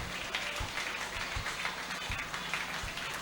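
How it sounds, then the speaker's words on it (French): A congregation claps hands in rhythm during prayer, with steady, evenly spaced claps heard over a wash of crowd noise and reverberant room sound. "Clap your hands"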